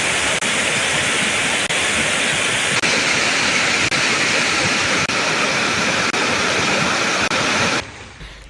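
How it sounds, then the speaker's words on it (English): Water thunders through the opened spill gates of the Kotmale Reservoir as levels rise after heavy rain, a dense continuous roar that stays loud and steady for several seconds before dropping off abruptly near the end. "spill gates of the Kotmale Reservoir have been opened as water levels continue to rise"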